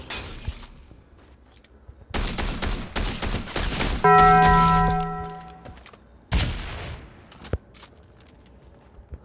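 A Cobra DMR fires in a video game in rapid bursts of loud cracks, with a ringing tonal game sound in the middle and a final shot near the end.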